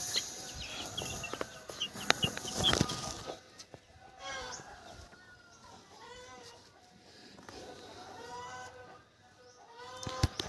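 Young country chicks, native backyard birds with a cold and wheezy breathing, cheep and cluck in a scattered series of short, fairly close calls after a burst of louder noise at the start.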